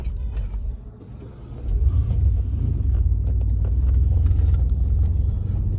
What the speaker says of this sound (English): And a car coming up behind me.